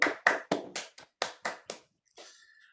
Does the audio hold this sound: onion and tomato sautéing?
no